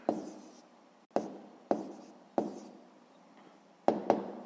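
A pen writing numbers for a sixth-grade fraction exercise: about six short, crisp strokes close by, each fading out, separated by brief pauses, with no talking.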